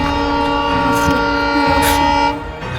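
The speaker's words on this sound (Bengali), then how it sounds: "ট্রেন আসছে, ট্রেন আসছে।" A train pulls into a railway station, sounding a loud, sustained horn close by over the rumble of the approaching cars, with the horn easing off near the end.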